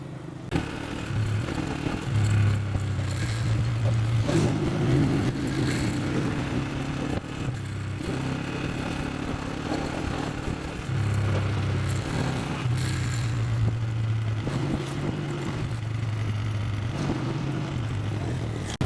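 Busy road junction in Pasrur where traffic heading to Sialkot and Narowal converges, with a steady, close rumble of passing motorcycles and cars, engines revving and clattering continuously throughout.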